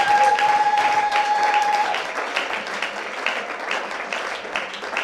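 A church congregation applauds in a sustained, dense round of clapping that stays strong and then eases slightly, with a steady tone underneath at first.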